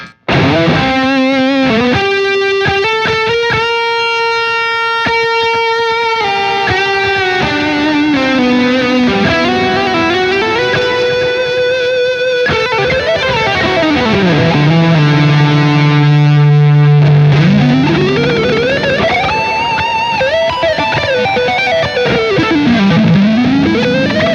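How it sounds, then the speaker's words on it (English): Creamy electric guitar lead tone through stacked pedals, loud and sustained, with bending, gliding notes and held phrases over a steady wash of effects. "I like to use them together because it just makes a nice creamy lead sound."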